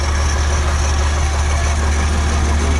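A 1965 Ford Falcon XP coupe idles steadily with a loud low engine rumble and a continuous higher whine from the fan belt or generator, constant and close throughout.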